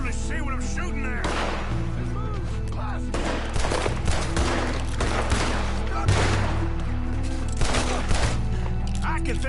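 Gunfire in a PS4 game, scattered shots and volleys popping at mid distance over a constant low drone and music, with spoken voices throughout.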